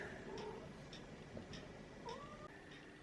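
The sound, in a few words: cat meowing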